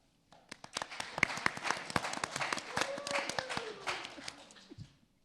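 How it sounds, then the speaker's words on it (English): Audience applause at a Jewish community talk on Batman's 85th anniversary, a burst of moderate clapping from a modest crowd that rises quickly, holds steady for several seconds, then fades out. "Yeah, that's absolutely a clapping moment."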